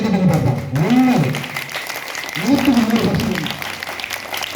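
Students clap at a school event, with a steady broadband patter of applause running under someone talking loudly over it.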